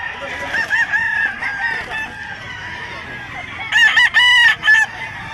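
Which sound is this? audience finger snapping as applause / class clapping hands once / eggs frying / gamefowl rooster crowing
gamefowl rooster crowing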